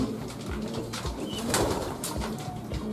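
Several pigeons coo in a steady low rhythm inside a coop, close and fairly quiet, with light rustling in the background.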